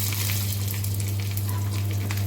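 Urad dal, curry leaves, mustard seeds, cumin and a red chilli sizzle in a little oil for a tempering, a continuous close, dense crackling fry over a low steady hum.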